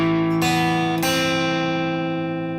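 Electric guitar picking a song's riff, a few plucked notes ringing on in succession, close and clear with no voice over them.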